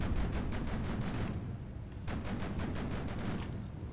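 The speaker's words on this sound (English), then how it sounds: "let's see what it's like to fire both of the guns at the same time" Twin guns of the HGS 108-1-2 Ballista tank in the game Sprocket fire together in a rapid burst of sharp reports, followed by a few further spaced shots over a continuous rumbling engine bed.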